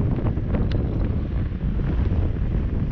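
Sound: wind blowing on the coast at sunset

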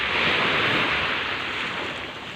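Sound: sea waves and surf at a beach in Batangas

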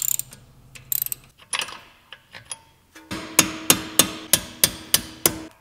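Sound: removing car brake pads, unbolting nut and pin

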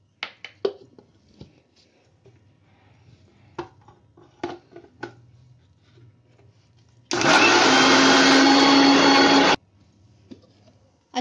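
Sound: blender grinding litchi with sugar

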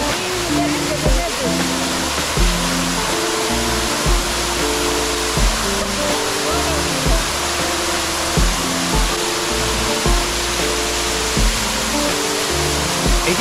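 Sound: Huambuguiro waterfall in Yamango, Piura highlands

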